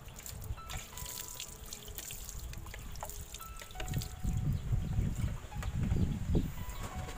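Water runs from a hose during work on a hydraulic brake light switch, a soft trickle and drip that swells into heavier low splashing midway, with no speech.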